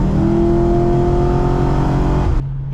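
A Pontiac G8 with an automatic transmission pulls hard under acceleration, its engine a loud, close, steady roar that cuts off abruptly near the end.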